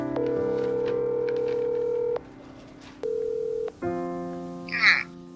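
A landline telephone dials a call, with a steady dial tone broken by a sequence of separate DTMF key tones at close range, then a short burst of ringback, in a quiet room.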